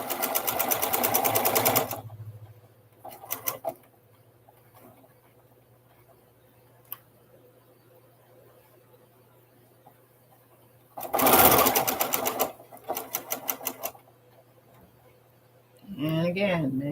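A sewing machine stitching charm quilt pieces: several short bursts of steady mechanical whirring and rattling, separated by quiet stretches with faint handling sounds.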